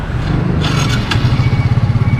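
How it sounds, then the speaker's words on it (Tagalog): Motorcycle engine starting after a drive chain repair, a brief scrape and clatter followed by a close, loud, pulsing idle throb. "pa start ng makina tapos ikambyo mo hanggang 4th gear tingnan natin kung kakalas"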